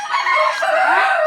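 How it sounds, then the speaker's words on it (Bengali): Farm chickens at a layer poultry setup give a brief, close crow mixed with clucking, a single short burst with no talking. "মুরগিগুলোকে খেতে দেব"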